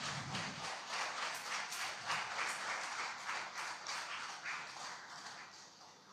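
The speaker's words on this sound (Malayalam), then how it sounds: "നല്ലൊരു കൈയടി കൊടുത്തുകൊണ്ട് നമുക്ക് പ്രോത്സാഹിപ്പിക്കാം." Audience applause for a scholarship winner: a soft, even patter of many hands clapping at some distance, going on steadily for several seconds without voices.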